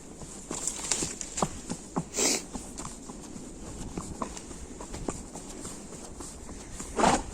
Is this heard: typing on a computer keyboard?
no